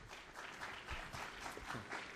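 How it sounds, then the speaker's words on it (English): Audience applause at a 2010 New York State Senate political debate, steady clapping from a crowd filling the room, continuous throughout. "Again, a reminder on the applause, if we can, to just hold them till the end."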